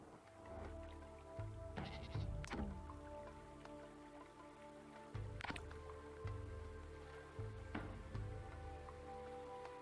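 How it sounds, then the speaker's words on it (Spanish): Goats bleating in the prehistoric survival game Dawn of Man, a few short calls over a steady low in-game ambience, moderately loud with some soft drip-like sounds. "Las cabras."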